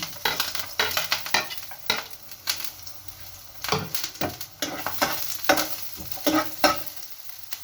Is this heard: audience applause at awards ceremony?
no